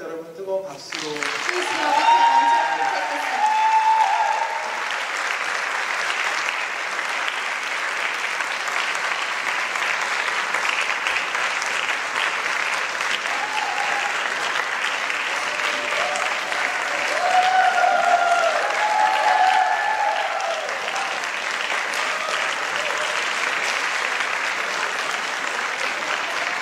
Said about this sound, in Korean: 무대를 내려갈 때까지 여러분 뜨거운 박수로